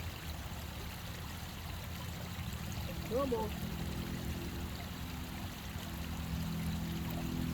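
Cold stream water flows in a constant, low rushing wash, with a brief voice heard over it partway through.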